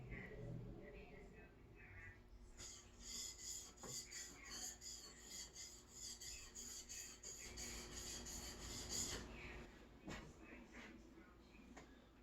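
Smoothing plane iron sharpened by hand to smooth out its camber, a rhythmic close rasping of steel stroked back and forth on a stone for several seconds, with a quieter lead-in and tail.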